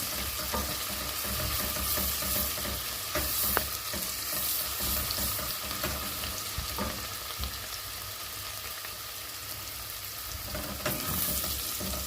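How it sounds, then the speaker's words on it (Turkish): Onions frying in a pan for dried beans with meat, a dense, steady sizzle close up with occasional clicks and scrapes of stirring, continuous and without speech. "Evet soğanlarımızı güzelce kavuruyoruz"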